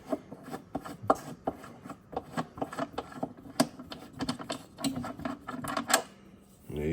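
Metal tool work on a 2017 Ford F150 windshield wiper motor as an 8mm socket zips off its bolts: a busy run of scraping, rubbing and clicking mechanical sounds, close and moderately loud, with no talking.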